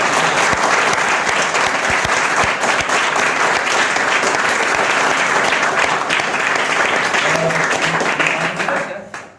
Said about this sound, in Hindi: जिनको आज की मीटिंग में मजा आया वो तालियां बजा दें,